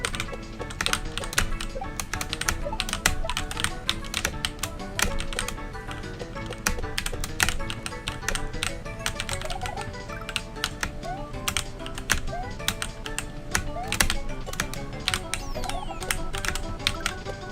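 Rapid, steady typing on a phone's on-screen keyboard, a dense run of close taps that continues without a break and with no voices.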